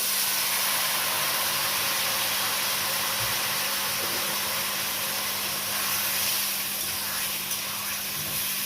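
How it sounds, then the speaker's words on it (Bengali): Water poured into a hot pan while cooking crab curry, producing a steady broad steaming hiss that fills the whole stretch, close and loud with a faint low hum beneath. "এবার অ্যাড করে দিচ্ছি জল"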